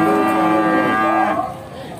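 A cow lets out one long, loud, nearby moo that fades into quieter background noise; Simmental cattle.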